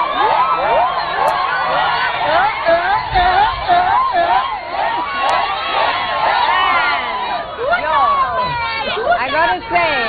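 A lively studio audience on the Mombasa edition of the Citizen TV show 10 over 10 cheers, whoops and shouts continuously, loud and close, with chatter mixed into the roar.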